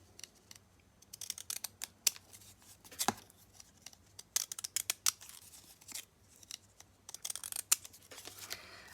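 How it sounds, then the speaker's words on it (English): Postage stamp scissors cut paper in quick, crisp snips, close and fairly quiet, coming in irregular bursts with small rustles between them. "I'm going to use these postage stamp scissors."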